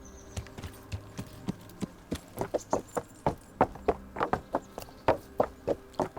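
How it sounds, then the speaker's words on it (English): Horse hooves clip-clopping in Kingdom Come: Deliverance as the rider heads into the town of Rattay, a steady walking rhythm of sharp, close hoof strikes growing slightly louder, with no talk over them. "I don't know if it's proper to ride my horse into town in this fashion"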